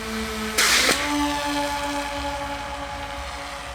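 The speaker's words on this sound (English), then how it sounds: "This time, the interceptor takeoff goes without a hitch." An interceptor drone, the Claw, lifts off in a field near the front line, with a sharp burst of rotor and engine roar that swells for a moment and then settles into a steady droning hum carried on by lingering tones.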